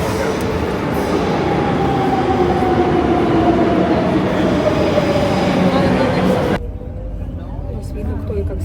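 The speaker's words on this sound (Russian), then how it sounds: "Метро." A Madrid metro train rumbles and roars steadily while riding underground, with a rising whine and rattling, then the noise drops abruptly near the end.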